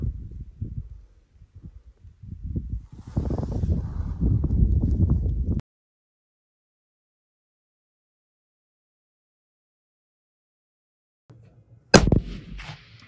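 A rifle shot fired at a pronghorn antelope on a Colorado hunt: a single sharp, loud crack that breaks a long silence, after earlier rustling footsteps and movement in the brush.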